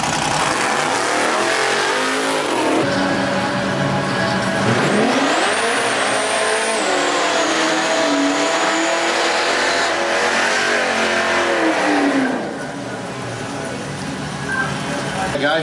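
Drag racing cars accelerate hard down the strip at the Port Road Drags, a loud sustained engine roar rising and falling in pitch, with voices talking over it.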